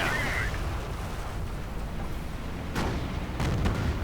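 Pak 38 anti-tank guns fire on Sherman tanks in a World War II strategy video game, with dull booms and bursts rising from a dense, continuous battle din, strongest near the end.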